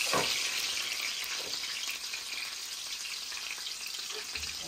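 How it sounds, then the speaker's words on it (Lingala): Garlic and onion fry in hot oil for a salted fish sauce, a steady close sizzle with faint crackle running alone throughout. "Na kotia ail nanga na matungulu pour na ko kalinga"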